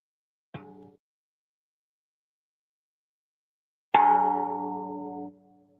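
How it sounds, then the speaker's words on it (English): Metallic bells struck outside, one short clang followed after a pause by a louder, ringing strike whose tone sustains for over a second before cutting off, heard alone in quiet surroundings. "Who's ringing those bells out there?"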